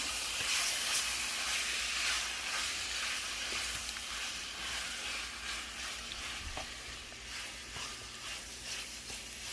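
Meat browning in a pan for a Philly cheesesteak makes a soft, continuous hissing sizzle, fairly faint and even throughout, with no voices.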